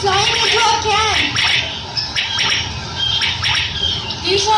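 A flock of quails flies into a camp with a busy chorus of squawking bird calls, many overlapping chirps and rough cries at close range, over constant outdoor noise.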